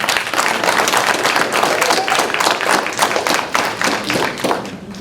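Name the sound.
audience clapping at event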